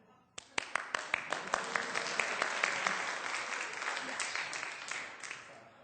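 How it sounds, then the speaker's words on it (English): A burst of applause starts with a few sharp claps, then builds into steady, dense clapping from an audience, holding strong before gradually thinning out toward the end. "I am applauding enthusiastically for that"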